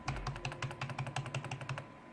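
Close, brisk typing on a computer keyboard, a quick run of crisp, evenly spaced key clicks and clacks with no talking over them.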